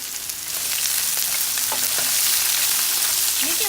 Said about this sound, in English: gradually bring all the vegetables in here. Give them a good stir.